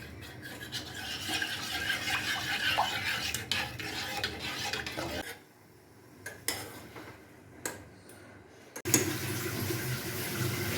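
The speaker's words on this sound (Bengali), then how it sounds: "তারপর আগার আগার পাউডার দিয়ে আবারও ভালো করে নাড়তে হবে" Watermelon juice is stirred after agar agar powder is added. A utensil swirls and scrapes close by, pauses briefly with a few clinks, then resumes.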